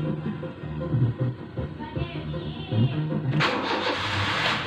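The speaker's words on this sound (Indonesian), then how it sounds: "cuman kita sudah ngecas dan kita coba nyalakan ya guys ya." A car engine with a battery that went flat after several days unused, recharged for nearly three hours, cranks over against steady low rumble and then catches with a sudden loud burst near the end.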